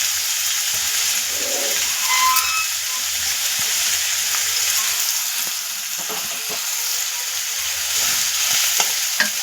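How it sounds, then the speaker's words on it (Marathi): Onion cooks in a pan with a steady, loud sizzle, the base for a spicy dried-fish chutney. Occasional faint stirring scrapes cut through, with no talk. "त्या कांदा शिजत असतानाच आपण त्यामध्ये एक मिरची आणि टोमॅटो टाकणार आहे"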